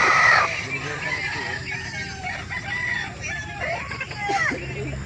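A full stag rooster at a poultry market in Calauan, Laguna, crowing and clucking nearby amid market bustle, with people talking in the background.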